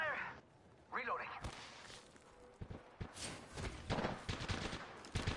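Video game firefight with bursts of sharp gunfire and rapid shots cracking in quick clusters, some close and loud, others more distant, mixed with footsteps and a player's voice talking between volleys.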